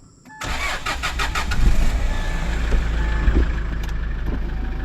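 A diesel car engine cranks and catches, then settles into a steady, loud idle as it warms up, with a low rumble that swells slightly and holds close by.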